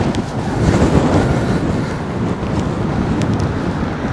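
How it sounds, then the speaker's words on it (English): Steady, loud wind buffeting the microphone on the coast between Porthkerry and Rhoose, Wales, with a deep, continuous roar of high surf churning underneath, no voices. "quite windy today, so the waves are quite high."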